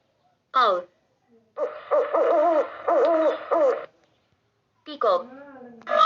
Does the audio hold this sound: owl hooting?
yes